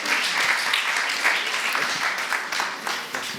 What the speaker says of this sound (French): On peut vous applaudir tous les trois pour votre engagement